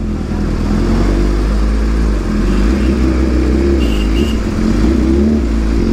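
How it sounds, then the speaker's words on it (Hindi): A superbike engine rumbles and revs steadily close by, loud, a deep throbbing roar that holds for several seconds without any voices. "सुपर बाइक का साउंड ही काफ़ी है"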